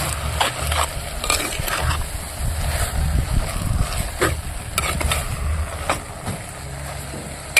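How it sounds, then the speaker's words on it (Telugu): Turmeric and salt being stirred into a cooking pot, with repeated scraping and clinking strokes of a spoon against the metal over a soft background sizzle, close and fairly loud, with no talking. "ఇప్పుడు పసుపు ఉప్పు కరిగేటట్లయితే కలుపుకుందాం"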